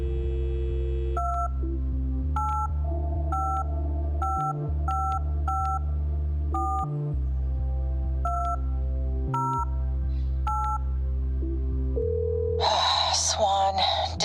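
A phone keypad in the video game Lost Records dials a number, producing about a dozen evenly spaced touch-tone beeps over a low hum, followed by a brief burst of a voice at the end.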